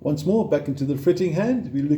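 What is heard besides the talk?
No everyday noises stand out.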